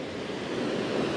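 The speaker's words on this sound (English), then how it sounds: "here's the waterfall." Rōjin Notaki waterfall in Yakushima National Park, a dense, continuous roar of falling water heard close and steady, with some wind noise mixed in.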